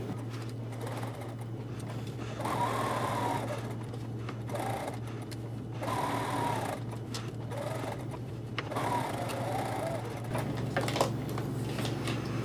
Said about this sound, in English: So you sew right on the line.